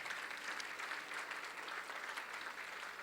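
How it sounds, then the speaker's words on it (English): Dinner guests applaud the dinner co-chairs at a celebration banquet, giving a dense, sustained round of clapping from a full room that holds at an even level throughout. "let's give them a round of applause, you bet"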